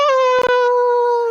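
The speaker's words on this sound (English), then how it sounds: "The howl echoes as you hear the werewolves all howling" A sustained, loud, tonal howl like werewolves as a sound effect, holding one steady pitch with rich harmonics, briefly broken by a short burst of noise.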